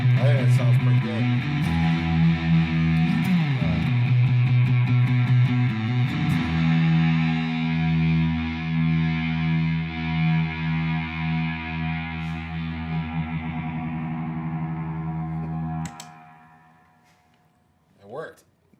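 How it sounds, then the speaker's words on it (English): Bass guitar played through a bass effects pedal, thick distorted sustained notes with chorus-like wobble, ringing on and decaying to silence before a final short plucked hit. "Obviously, this is a bass pedal, but I think it sounds pretty good."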